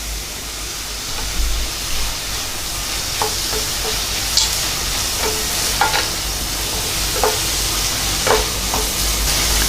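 Mutton for mutton varuval sautés in a pan with a loud, continuous sizzle, broken by repeated scraping stirs of a utensil, heard up close without talk.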